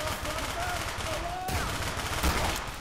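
Steady close gunfire in Garry's Mod, a dense stream of rapid shots with a couple of heavier thumps, loud throughout, with voices underneath.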